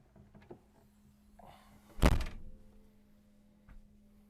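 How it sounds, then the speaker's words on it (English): The heavy-duty door of a 2026 45 ft showhauler trailer shuts with a single solid thunk, close by, followed by a faint rattle and quiet room noise. "I'll close the door."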